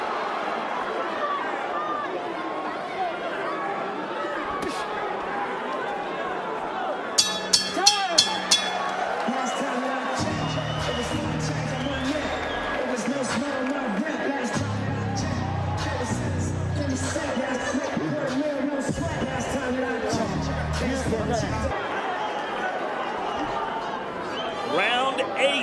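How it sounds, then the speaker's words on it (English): A pro-JoJo boxing crowd fills the MGM Grand Garden Arena in Las Vegas during Devin Haney vs Joseph Diaz Jr, a steady roar of chatter and murmur running throughout with brief louder swells. "right now, this is a very pro-JoJo crowd"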